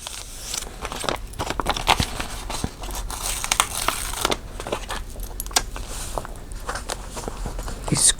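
Crinkly pages of a Stalogy daily planner are handled and turned, giving repeated close rustles and crackles of paper in an irregular rhythm, with faint light knocks between them.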